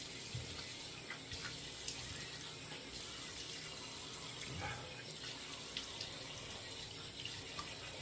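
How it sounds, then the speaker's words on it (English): Hot water running steadily from a tap into a sink while rinsing the face during a wet shave, a continuous gushing splash with small clinks and shifts, no talk. "we'll put some hot water on the face here"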